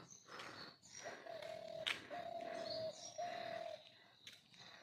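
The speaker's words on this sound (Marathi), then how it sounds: "पण छान असा पक्ष्यांचा आवाज येतो." Birds call in a quiet, foggy forest on the climb to Ratnadurg fort, a sustained tonal call repeating a few times with faint chirps scattered around it.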